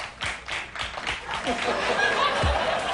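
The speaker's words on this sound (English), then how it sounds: "That, by the way, is the very definition of a smattering of applause." A sparse smattering of claps from a late-night talk show studio audience, a few scattered hand claps mixed with chuckles, laughter and chatter, with voices talking over it.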